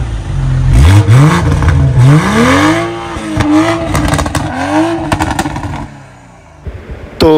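A BMW 340M Sport car revs hard as it pulls up, its engine rising and falling through several loud, sweeping pitch climbs with sharp crackles before settling down and giving one last burst.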